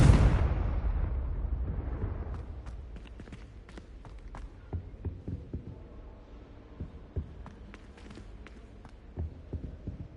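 A Confringo blasting spell goes off in a Harry Potter video game, sending out a loud explosive burst that fades into a rumbling tail, followed by scattered sharp crackles and thuds.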